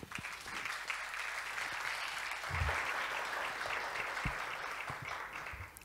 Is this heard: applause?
yes